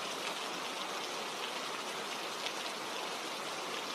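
Steady rain hisses evenly, a dense wash of falling water with faint scattered drops, fairly quiet and unbroken.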